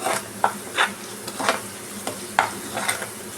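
Spice paste being stirred and fried in a pan for a Tangra catfish tel jhaal: a steady close sizzle broken by several distinct scraping stirs of the spoon, with no voices.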